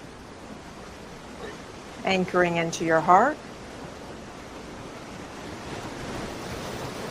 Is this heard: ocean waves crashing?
yes